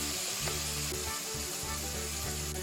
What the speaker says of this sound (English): we add the beef into the pot, fry them together